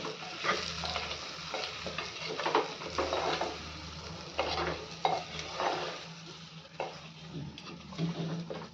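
Stuffed brinjal curry being stirred in a pan, a spoon scraping and turning the vegetables in a steady rhythm over a continuous low sizzle of frying, close and moderately loud with no talking.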